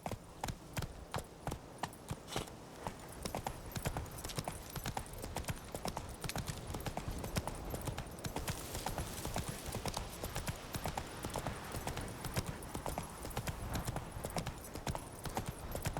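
Roach, a horse in The Witcher 3, gallops steadily with rapid, even hoofbeats that carry on without a break, fairly close and clear, with no talk over them.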